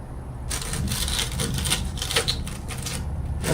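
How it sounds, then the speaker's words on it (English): The bottom of a canister is cut out in a steady run of close, crisp ticking and scraping cuts for a few seconds, with no talking. "I'm just going to cut this out."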